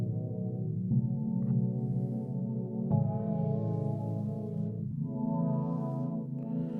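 An EQ frequency sweep in music production glides across a sustained, buzzy synth-like tone, the filtered brightness rising and falling in slow, smooth arcs, loud and alone.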